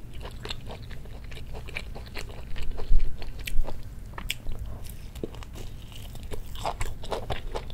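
Close chewing and biting of fried pollock pancake (donggeurangttaeng-style jeon) in a Korean mukbang, with steady crunchy, squishy mastication sounds repeating throughout and no talking.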